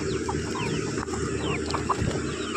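Peruvidai chickens cluck and squabble over scattered feed, short overlapping calls and squawks rising close by against a steady farmyard bed of noise.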